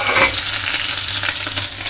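Loud, close, steady sizzle of onion, green chilli, curry leaves and coriander leaves frying in hot oil, a continuous hiss with faint stirring and no talk.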